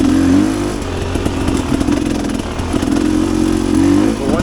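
A Rieju Ranger 300 two-stroke dirt bike fitted with an FMF Gnarly pipe revs up and down close by, its raspy engine note rising and falling in a loud, continuous run.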